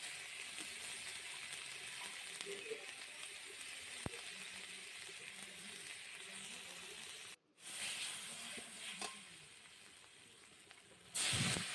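Garlic and onion paste frying in a little oil gives a faint, steady hiss and sizzle with light pops, briefly cut off midway and then resuming more strongly.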